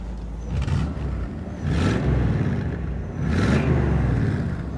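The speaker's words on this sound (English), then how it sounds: "Rev the engine for me, sir." A 1963 Ford Galaxie 500XL convertible's engine revs up repeatedly in three swelling bursts over a steady rumbling idle, loud and close.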